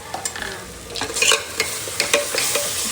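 Onion paste fries in a pan for a mutton curry, sizzling steadily while a utensil stirs and scrapes it in short irregular strokes, close and moderately loud with no talking.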